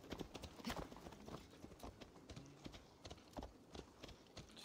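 Horse hooves clip-clopping in the video game Assassin's Creed Valhalla, a quiet, irregular run of soft hoof knocks moving along over low ambient game sound.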